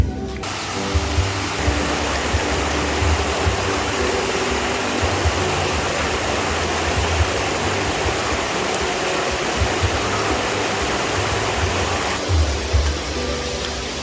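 Steady, dense rush of water fills the whole clip, heavy rain falling over a flowing river during a typhoon, continuous and loud with no voices.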